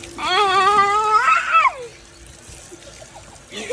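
Water splashing and trickling as a child is bathed, soft and close, with a child's loud high squealing voice over it at first and quieter splashes afterward.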